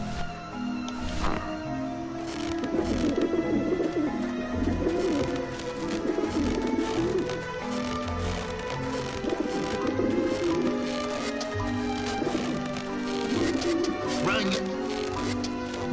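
Pigeons coo and flutter in the video game Grim Fandango Remastered. Their calls repeat steadily over a dense, busy ambience, with a voice talking over them.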